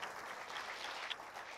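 Congregation clapping during a Sunday church service, a steady, dense applause filling the room from start to finish with no voices standing out.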